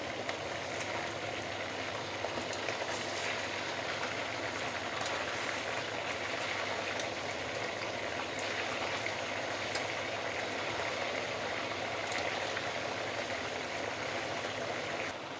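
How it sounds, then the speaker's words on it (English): Pork ribs deep frying in oil over medium-high heat, a steady, fairly quiet bubbling hiss with faint crackles and pops throughout, no voices. "Use medium-high heat, yeah, to deep fry the ribs."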